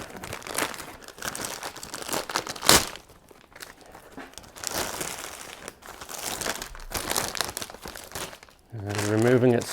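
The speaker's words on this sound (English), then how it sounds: "Just carefully tearing it, taking your time." Plastic and paper packaging on a Diadora Passato 700C women's hybrid bike from 2020 is being crinkled and torn away from the wheels in irregular bursts of rustling and ripping, close by, with a brief voice near the end.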